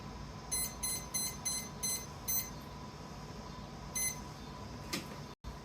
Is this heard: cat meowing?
no